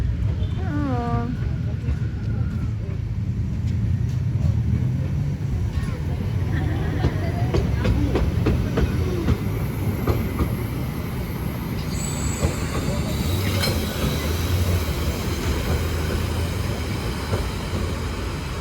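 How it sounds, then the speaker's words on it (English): Brocken railway train rumbling past on its rails in the mountains, a loud continuous roar with metallic squeals and rattles, with people talking over it. "Here's the train."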